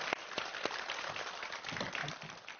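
An audience at a televised lecture applauding to welcome the speaker, a steady wash of clapping with a few sharper individual claps, moderately distant and continuous.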